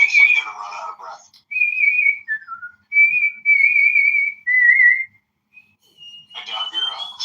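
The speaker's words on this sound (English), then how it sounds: "I can whistle sucking in" Whistled tones made while drawing air inward, a string of separate sustained pitched notes with pauses between them, gliding up and down slightly. Bursts of talk come right before and right after.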